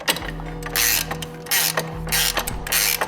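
A ratchet tightening a fastener while TraxBrax tracks are installed on a Polaris Pro XP, loud clicking bursts repeating in quick strokes with short pauses between.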